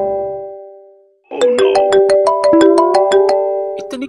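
A mobile phone ringtone plays loud and alone: a held electronic tone fades out, then a bright melody of quick repeated chiming notes begins.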